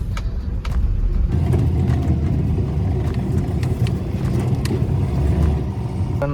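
A pickup truck drives on a road with a steady, close engine rumble and continuous road noise throughout, and no talking.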